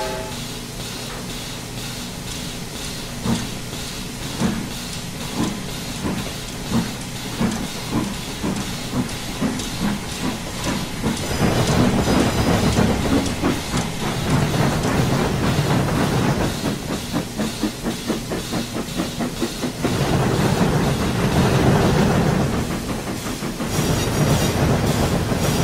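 A steam train puffs along a railway with rhythmic chuffs and hiss, growing louder and denser midway over a continuous rumble and faint clickety-clack of wheels.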